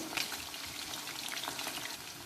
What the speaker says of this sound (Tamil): இது வந்து நல்லா டீப் ஃப்ரை ஆகணும்.